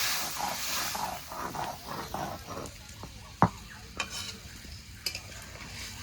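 Spatula stirring a curry of fish and bitter gourd in a pan, scraping and clattering in uneven strokes over a soft sizzle, close and moderately loud, with a few sharp metallic knocks.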